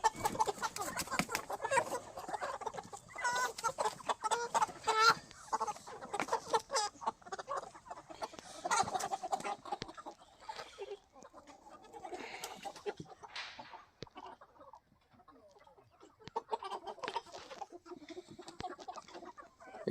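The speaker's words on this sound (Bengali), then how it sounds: "এখানে মুরগি যেটা ওজন করা হচ্ছে" Kuroiler chickens clucking and squawking on a farm while being weighed for a sale delivery, a dense, continuous flock chatter close by with sharp bursts throughout.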